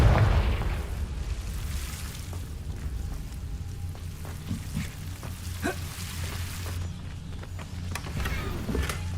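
A Confringo fire spell blast in Hogwarts Legacy opens with a loud burst, then crackling, sizzling fire and several sharp pops over a low rumbling game backdrop.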